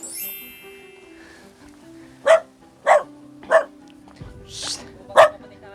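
A dog barks five times, sharp and fairly close, spaced about half a second apart, over faint background tones.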